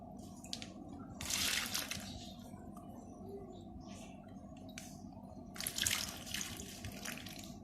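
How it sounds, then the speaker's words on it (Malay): Water scooped from a betta fish tank, sloshing and splashing in two bursts, with quieter trickling and drips between them, close and fairly soft. "kita ambilkan air dalam tank dulu"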